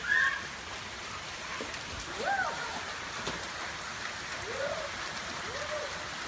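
Heavy rainstorm pouring down over a backyard, a dense, steady hiss of rain on surfaces filling the whole stretch, with a few faint, brief chirping calls poking through the downpour.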